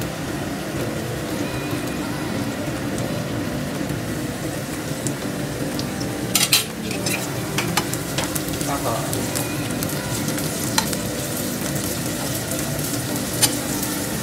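Long sliced capsicum frying in a pan for paneer, a steady close sizzle with occasional scraping clinks of stirring, no talking.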